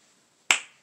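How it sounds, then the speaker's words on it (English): A single sharp finger snap rings out close and loud from near silence, with a brief decaying tail. "snap my fingers"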